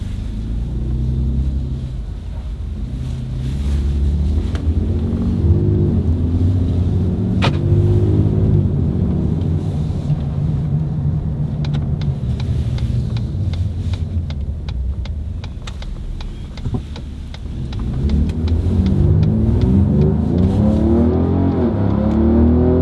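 A tuned 2018 Ford Raptor truck with a Cobb tune drives in sport mode, heard from inside the cab as a deep, steady engine rumble that rises and falls as it accelerates and shifts, with no talking.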